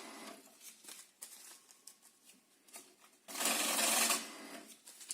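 A Riibao BC-55 banknote counting machine set to 1200 rpm runs through a stack of Turkish lira, giving a loud, dense whirring flutter of riffled notes for under a second after quieter mechanical clicks and rustles.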